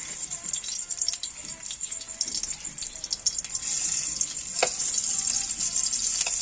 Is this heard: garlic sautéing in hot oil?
yes